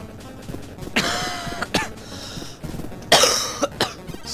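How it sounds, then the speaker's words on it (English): Someone nearby coughs repeatedly during a video game session, several harsh, throaty bursts in an irregular series with short gaps between them, close and fairly loud. "I died due to coughing"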